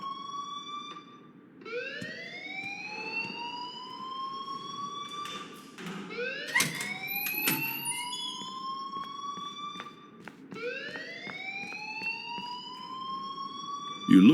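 An alarm in the video game Life is Strange repeats in three rising electronic whoops, each sweeping upward and fading, over a steady low hum with a few clanks between them.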